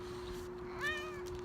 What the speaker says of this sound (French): mon chat, il a miaulé